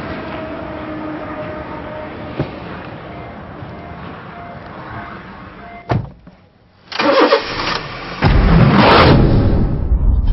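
The engine of an all-new 2017 Honda City sedan hums steadily at close range, then a sharp knock, a short quiet gap and a louder burst of engine noise that holds to the end.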